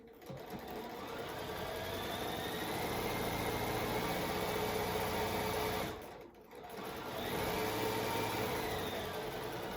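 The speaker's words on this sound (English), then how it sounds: "So I just ran that little stitching right there on the edge" A sewing machine runs a steady stitching line close to a fabric edge while making a project bag, its motor whirring continuously for several seconds, briefly pausing, then resuming at the same even pace.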